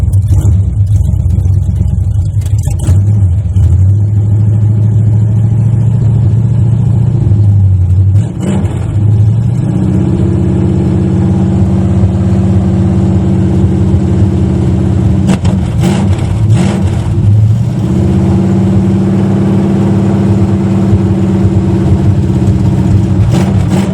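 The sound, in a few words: 1980 Chevy Malibu Landau engine running after cold start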